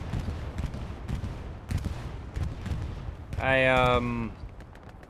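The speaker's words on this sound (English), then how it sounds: "I hear a bombing run. Bombing run at Mason." Bombing run explosions and scattered gunfire in the World War II shooter Hell Let Loose, a dense rumbling barrage of blasts, with a voice breaking in near the end.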